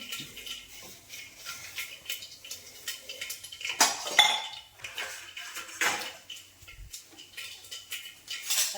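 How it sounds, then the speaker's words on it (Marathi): Pots and dishes being scrubbed and handled at home, giving close metallic clinks, scrapes and clatters of utensils in irregular bursts, with no talking. "आता भांडे घासून घेते."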